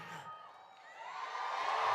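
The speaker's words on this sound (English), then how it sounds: "So now I ask our audience to cheer" An audience in a historic theater cheers and whoops during a university commencement ceremony, a broad roar of many voices that builds steadily louder over two seconds.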